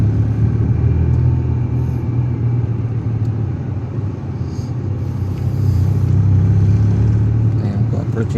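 Road traffic at a busy intersection in Zambales during school dismissal hour, with steady low rumble of cars and motor vehicles passing close by, engines droning continuously with slight swells, and faint voices mixed underneath.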